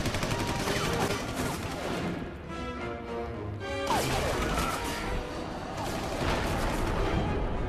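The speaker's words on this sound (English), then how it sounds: "they are shooting at a child as well" Cartoon gunfire from The New Batman Adventures, dense bursts of shots and crashes under loud overlapping sound effects, briefly easing before resuming.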